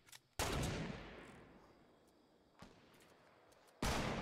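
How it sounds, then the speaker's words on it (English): Gunfire in the Fortnite video game, a few sharp distant-sounding shots that are each followed by a long fading echo, with quiet between them. "Oh, shots from south somewhere."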